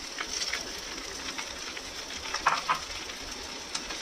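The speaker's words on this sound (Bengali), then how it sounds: "এবারে এটার মধ্যে দিয়ে দেবো এই বেগুনগুলো" Brinjals hiss and crackle in hot oil in a pan with radish greens, a steady broadband sizzle with a few sharper pops and spatters near the end.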